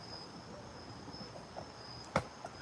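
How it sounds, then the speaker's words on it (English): Crickets chirp steadily outdoors at night in a thin, continuous high trill, faint and distant, broken by one sharp brief knock near the end. "The crickets are out."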